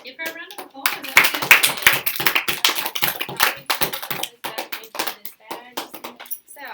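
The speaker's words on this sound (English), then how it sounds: "Give her a round of applause." Elementary classroom applause, a short burst of scattered, uneven hand claps from a small group of children, close and fairly loud, with some light voices mixed in.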